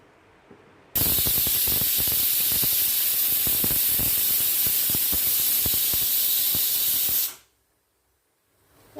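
A pressure cooker whistle bursts into a loud, steady hiss of escaping steam, holding for about six seconds before cutting off abruptly into quiet, with faint rattling in the jet.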